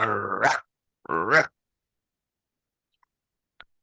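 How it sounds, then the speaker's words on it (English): A dog growls in an episode of the animated series The Bad Batch. Two short, close rumbling growls are followed by near silence and a couple of faint clicks. "Batcher senses something outside and begins to growl even more."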